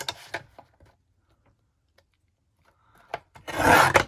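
Short scraping, rasping bursts as paper edges are deckled for journal pages, a brief scrape early, then a louder rough rasp near the end.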